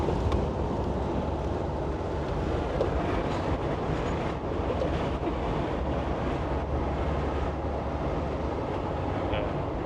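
Steady roaring breeze rushing through a Land Rover Defender 110 with manual windows while driving, a constant broadband wind noise filling the whole stretch, loud and close with no pauses.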